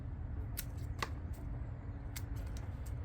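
Pruning shears snip top branches off a pepper plant being cut back for overwintering. Two or three quick, crisp snips sound close over a steady low background hum.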